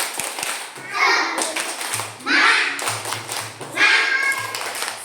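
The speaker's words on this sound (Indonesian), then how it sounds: "tepuk semangat dulu" Young children in a classroom performing a rhythmic group clap with their teacher, repeated bursts of quick clapping alternating with children's voices chanting and talking between them.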